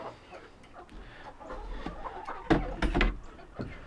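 Chickens in a winter coop give a few soft, close clucks amid light rustling and shuffling, with one louder burst near the end.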